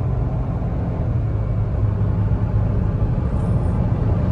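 A Seat Ibiza's diesel engine drones steadily from inside the cabin at quarter throttle while climbing an uphill road, a constant low rumble with no speech.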